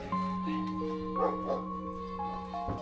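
Rescue dogs yip and whimper by a river at a dog shelter in Kampot, Cambodia, giving short scattered calls at moderate distance over a steady background with musical tones running underneath.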